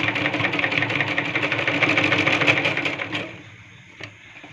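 A sewing machine stitching a lungi runs in a fast, steady clatter of rapid needle strokes for about three seconds, then stops, leaving a quiet pause broken by a single faint click.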